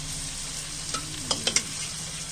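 Pre-boiled drumsticks stirred in a frying masala curry give a soft, steady sizzle, with a few sharp scraping clacks of the spoon against the pan, close and quiet.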